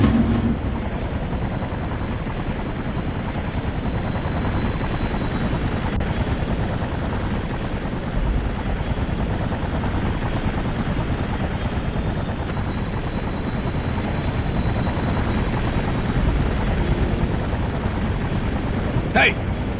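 Helicopter flying in the inFamous video game, a steady loud rotor and engine drone that fills the whole stretch without pause, with game voices talking over it.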